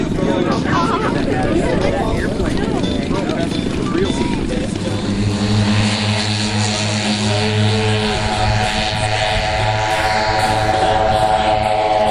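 Steady droning propeller engines of a B-29 bomber in flight, with a low, humming pitch, loud and continuous, while a person talks over the noise.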